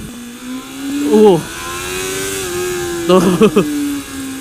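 A Suzuki Bandit 250cc motorcycle engine idles steadily with a rising, revving pitch, while someone speaks briefly twice over it, close and fairly loud.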